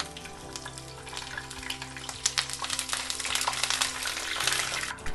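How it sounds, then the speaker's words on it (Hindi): Mustard seeds crackle in hot oil with a dry red chili and curry leaves for a Goan king mackerel curry. A soft, steady sizzle with scattered small pops builds slightly and comes from close by, with no talking. "जैसे ही मस्टर्ड सीड क्रैकल हो हम इसमें ऐड करेंगे एक सूखी लाल मिर्च, हम इसमें ऐड करेंगे करी पत्ता"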